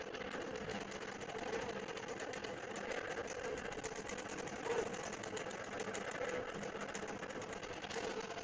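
A computerized longarm quilting machine runs steadily through an edge-to-edge quilting pattern, a continuous even mechanical hum and rattle that stays at a constant level throughout.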